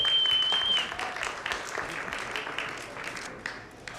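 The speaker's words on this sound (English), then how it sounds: "Give yourselves a round of applause." Steady applause from a large audience at a TiE conference fills the whole stretch, dense clapping that slowly thins toward the end.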